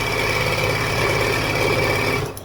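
Sewing machine stitching a long seam joining sashing and borders on a nine-patch quilt top, a loud, close, continuous whir that runs steadily before cutting off abruptly at the end.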